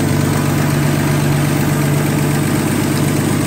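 A 1967 Camaro V8 with a Holley 600 CFM double pumper carburetor idles in drive at a steady low rumble, loud and close, with a smooth, even pulse and no voices.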